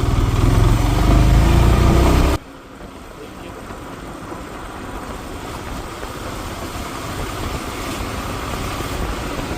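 A motorcycle cruises through early-morning Bangalore streets, its engine loud and close with heavy wind rush at first, then settling into a steadier, quieter drone for the rest of the ride.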